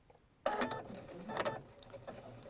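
A sewing machine stitching quilt fabric starts with a sudden whir, then runs in a close, moderately quiet mechanical hum with rhythmic clatter that swells and eases over a couple of seconds.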